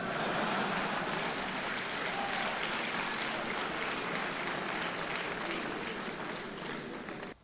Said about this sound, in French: Je vois que seules les femmes applaudissent.